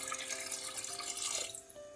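Water poured from a measuring glass into rice for cooking a Mughlai chicken yakhni pulao, a steady close splashing stream lasting throughout with no talk.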